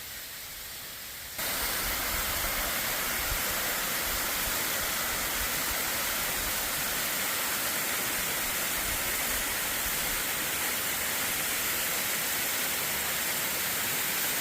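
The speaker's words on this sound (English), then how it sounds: "this is the best water feature I've seen in a while" Waterfall on the Appalachian Trail, a loud, steady broadband roar of rushing water that swells in after a quieter opening second and continues unbroken.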